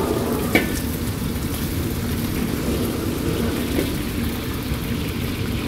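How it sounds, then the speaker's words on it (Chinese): Turbot fries over high heat in a wok of rapeseed oil and lard with a pinch of salt, giving a steady, loud sizzle that runs the whole time with no talk. "然後把我們的魚直接下鍋煎"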